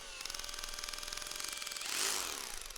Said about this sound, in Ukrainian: Тріщоточка слабенька.